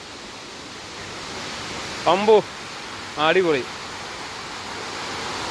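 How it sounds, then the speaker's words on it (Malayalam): Abbey Falls in Coorg roars as a steady broadband wash of heavy falling water, constant and full throughout, while a person briefly exclaims twice over it. "നിങ്ങൾക്ക് വാട്ടർഫാൾസിൻ്റെ സൗണ്ട് കേൾക്കാൻ കഴിയുന്നുണ്ടോ? നല്ല വെള്ളം ശക്തമായിട്ട്."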